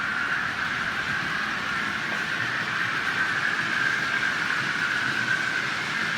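A model railway train runs on a layout, producing a steady, even rolling hum with a high whining tone throughout, close and continuous, with no talking.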